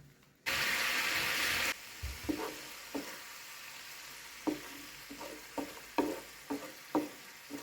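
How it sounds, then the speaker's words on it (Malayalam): Fish masala in a pan gives a loud, brief sizzling hiss as a quarter cup of water goes in, followed by quieter simmering and a series of sharp spoon knocks and scrapes against the pan. "ഇനി ഇത് ചെറിയ തീയിൽ ഇത് നന്നായിട്ടൊന്ന് തിളയ്ക്കണം"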